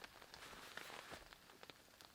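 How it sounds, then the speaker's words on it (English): Light morning drizzle at Sec Lake after a night of heavy rain: a faint, steady patter of drops on surfaces, soft and continuous, with no voices. "Now it's just drizzling."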